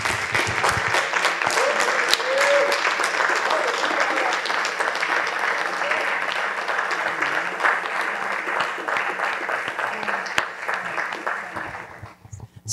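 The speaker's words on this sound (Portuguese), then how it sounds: "Quem pode aplaudi-lo?" Sustained applause from a church congregation, steady and full for about twelve seconds before cutting off, with a few faint voices mixed into the clapping.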